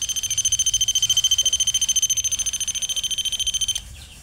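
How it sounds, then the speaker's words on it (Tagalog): A motion sensor alarm beeps in a rapid, shrill pulsing pattern, loud and close, with dozens of evenly spaced beeps that stop abruptly near the end. "ito po ay motion alarm only. Motion sensor alarm."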